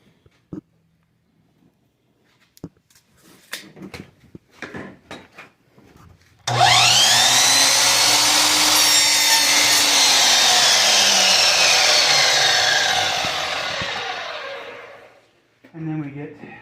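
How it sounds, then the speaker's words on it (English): A chop saw spins up and slices through wood for a rabbit hutch, a loud sustained whine about eight seconds long that winds down, with scattered clatter and handling before it and a brief knock afterward. "bring it over here to the chop saw."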